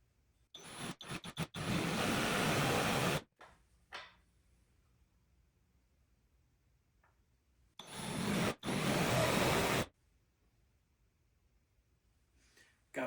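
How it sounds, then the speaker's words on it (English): A power drill boring holes for magnets in wood, two loud whirring bursts of about two and a half seconds each separated by quiet, with small clicks and handling knocks between. "I'm gonna go ahead and get the other holes drilled out"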